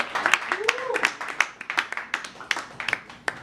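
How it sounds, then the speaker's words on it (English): Scattered applause from a modest audience at a music seminar, individual claps standing out sharply with a brief voice heard among them. "getting a round of applause for everybody"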